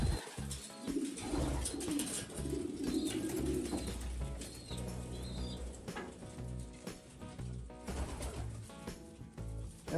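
Pigeons in a breeding loft give soft, low cooing calls under a busy bed of wing flaps, shuffling and scattered chirps, the whole flock murmuring continuously and fairly faintly.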